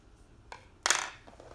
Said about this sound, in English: And I'll just cut this like about this long.